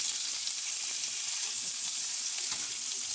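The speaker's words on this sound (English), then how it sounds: "Hillary's turning over the hamburger patties" Homemade hamburger patties sizzle steadily in a hot pan as they are turned over, a constant bright hiss with small pops and scrapes.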